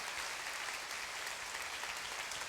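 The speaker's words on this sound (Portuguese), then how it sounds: "Você pode aplaudir ao Senhor nessa noite?" A church congregation at an evening service breaks into steady, even applause, dense and continuous for a few seconds without talk.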